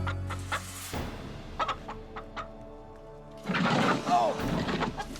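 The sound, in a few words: chicken clucking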